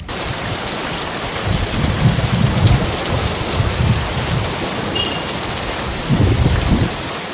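Heavy rain pours steadily on the leaking Sagar Mahaganapati temple, a dense continuous hiss with occasional deeper rumbling swells and no voices.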